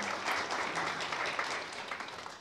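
An audience at an academic theatre event applauds steadily, a dense, even wash of clapping from many hands that holds at moderate loudness throughout.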